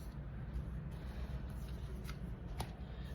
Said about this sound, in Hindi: तो हम पहले कार्ड्स ड्रॉ करेंगे पहले 6 महीने के लिए